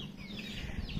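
Young chickens just out of a cage cluck faintly nearby in a short burst of soft, scattered calls over a low background rumble.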